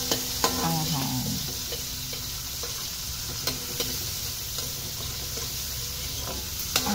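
Garlic, onion and chili sauté in a pan, giving a steady quiet sizzle broken by several sharp clinks of stirring, with no talk.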